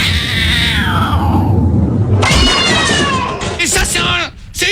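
A voice imitates a cat, drawing out whiny, pitch-sliding meows and caterwauling cries, loud and close, mixed with a rumbling background.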